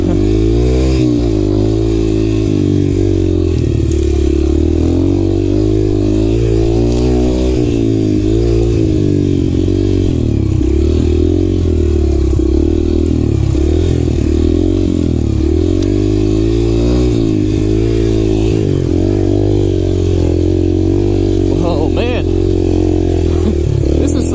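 A dirt bike rides single track through Freetown State Forest, its engine droning close and continuously for the whole stretch, rising and falling with throttle blips and revs.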